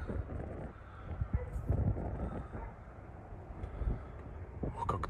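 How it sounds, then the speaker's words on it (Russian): Wind gusts across a hilltop fortress in Alanya, Turkey, a steady low rumble with buffeting bursts against the microphone, joined by brief clatters and distant voices. "Ох, как тут ветрено."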